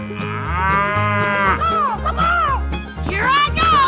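A cow in a 3D animal video game gives a loud, drawn-out moo with a steady pitch, then several shorter wavering calls that rise and fall, close and prominent.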